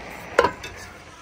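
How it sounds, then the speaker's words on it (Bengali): A spoon gives one short scrape through a pot of boiling lentils, close and quiet, followed by a faint softer stir. "তো একটু আমি নেড়ে দিচ্ছি"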